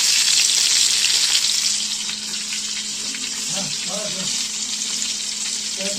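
Vadas fry in hot oil with a loud, dense, continuous sizzle that eases slightly after the opening seconds, and a voice briefly sounds underneath midway.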